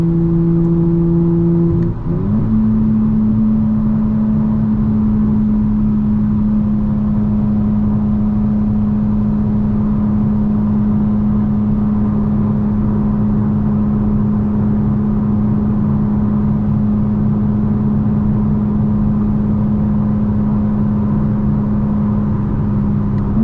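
A 2025 BMW G82 M4 drones through its real exhaust at steady cruise, a smooth continuous low hum with one brief shift near the start, heard from inside the cabin.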